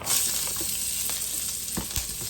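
Fennel and peppers fry in a pan alongside pork chops in vegetable oil, a steady close hiss of sizzling with a few soft knocks and stirs of food moving in the pan.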